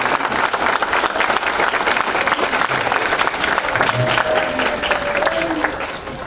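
Sustained applause from an audience at an athletic hall of fame recognition ceremony, steady dense clapping throughout with light crowd murmur, tapering slightly at the end.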